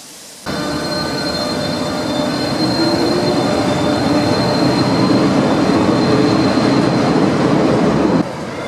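A loud, steady rumble of a train running on rails through a station in Madrid with metallic wheel whine, starting abruptly and continuing close by until it drops off near the end.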